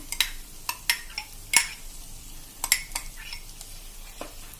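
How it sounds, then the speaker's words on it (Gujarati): Finely chopped tomatoes going into oil with sizzling masala for a cheese paneer ghotala: a faint sizzle under sharp clinks and scrapes of a spoon against the pan, scattered irregularly and close. "હવે આ સ્ટેજે આપણે મેં 3 મીડિયમ સાઈઝના ટમેટા ઝીણા સમારી લીધા છે એ નાખી દેશું"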